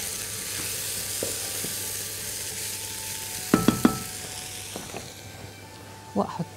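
Cauliflower, added to a pan with chickpeas, sizzles and frys steadily while being stirred, with a few sharp scraping knocks of the spoon against the pan midway and near the end.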